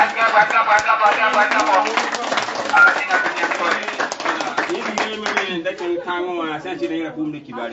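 Church congregation clapping together to acclaim the Lord for a child's healing, a dense rapid patter of hands strongest at first, then thinning as voices and talk rise over it.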